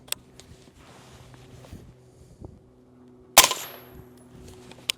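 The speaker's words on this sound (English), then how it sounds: "So I'm going to shoot 1 through the AB and 1 through the AAC and just see what it sounds like." A suppressed 5.56 rifle fired through an AAC suppressor gives one loud, sharp report with a short decaying tail. Faint clicks and handling noises come before and after it.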